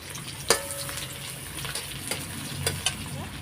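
Chopped onions sizzle steadily in a hot pan as the base for a spicy Bombay duck fish curry, with occasional sharp clinks and scrapes of a spoon stirring close by.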